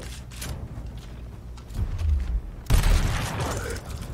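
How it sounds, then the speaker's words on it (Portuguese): A single gunshot rings out in the turn-based tactical game Gears Tactics: a sudden loud burst with a noisy, lingering tail, after a few quieter mechanical clicks and creaks. "Mais um tiro, vamos lá."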